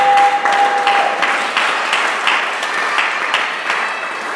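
A church congregation applauding steadily for several seconds, dense clapping from a large crowd in a reverberant hall, fairly loud and continuous with no talk over it.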